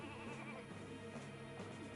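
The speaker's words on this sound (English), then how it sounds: "You can also see why there are so many sheep around here" Sheep bleating in the Ratchet & Clank: Going Commando video game, steady overlapping bleats from several animals under a continuous layer of game music and ambience.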